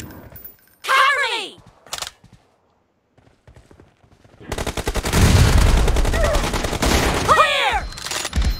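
Automatic gunfire in the mobile battle-royale game PUBG Mobile crackles loudly in dense sustained bursts, with short shots early on and a long rapid stream later, while a voice exclaims briefly over the shooting.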